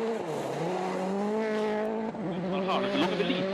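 A rally car runs the final Power Stage at Torsby during the Swedish rally, its engine revving steadily and shifting through gears at close range over a broadcast commentator.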